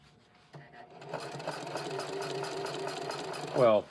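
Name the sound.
Singer HD 4411 sewing machine sewing heavy fabric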